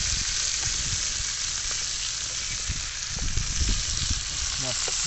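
Chicken pieces with whole unpeeled garlic cloves sizzle steadily in a pan over a village cooking fire, a constant close frying hiss with occasional crackles and brief stirring sounds throughout.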